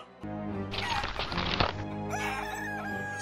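Chickens make loud, close calls, with sharp squawks and crowing-like bursts over a steady background, no talk.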